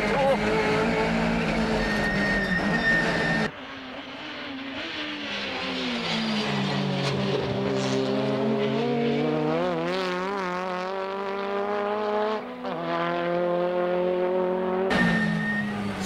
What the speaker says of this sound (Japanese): さあ、ドリドリが攻めの走りに変わったぞ